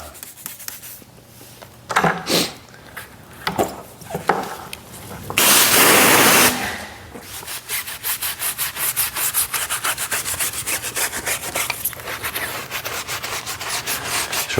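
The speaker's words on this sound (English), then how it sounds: "when you maintain your tires, just a simple little scrub like that works great." Rhythmic brush scrubbing on a car tire during detailing, with repeated short rubbing strokes, a louder sustained burst midway, then steady fast scrubbing close up, no talking.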